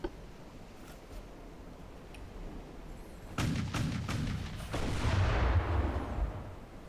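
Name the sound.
warship guns firing in Ultimate Admiral Dreadnoughts video game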